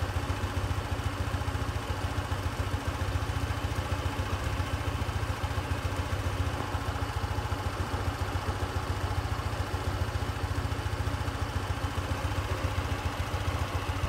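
A Honda ADV 160 scooter with about 10,000 km on it idles after a cold start, a steady close-up engine rumble with a fast, even mechanical pulse and light clatter, running alone without a break.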